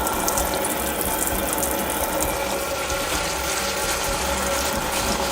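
Dried lentils are rinsed under running water, a dense rattling patter of hard little legumes shifting in the stream that goes on steadily for a few seconds without talk.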